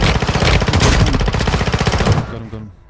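Rapid bursts of enemy automatic gunfire in Call of Duty Warzone on Rebirth Island crack loudly and close in a dense stream for about two seconds before cutting off sharply.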